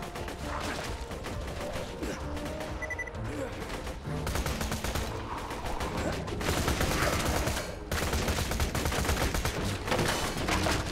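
Dense gunfire in the video game Borderlands 2, with rapid overlapping shots and automatic bursts mixed with game effects, steady and busy throughout.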